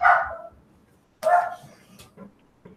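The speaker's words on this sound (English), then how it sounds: "big barks" A dog gives two loud, close barks about a second apart, followed by a few softer short yips and whimpers.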